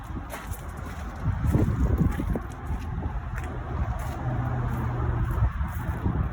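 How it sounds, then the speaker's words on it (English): Distant highway traffic rumbles steadily outside a house, a low continuous wash mixed with wind buffeting the microphone, with no talking. "you may hear the traffic a little bit from the highway"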